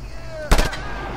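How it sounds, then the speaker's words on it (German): A single gunshot in the video game Just Cause 2 fired at barrels, a brief loud crack with a short rumbling tail over a steady low game-sound background, no talking. "Ich wollte eigentlich mal auf diese Fässer hier schießen."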